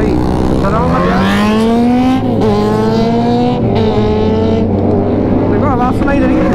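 Loud superbikes rev and ride past in a close group, engine tones rising and falling continuously, with people talking over the roar during a festive group ride to a riders cafe.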